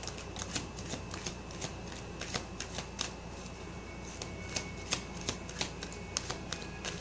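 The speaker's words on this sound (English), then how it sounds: "One more card for DM, please." Tarot cards shuffled by hand in a fast, even run of crisp riffling flutters and soft slaps, close up and continuous with no talking.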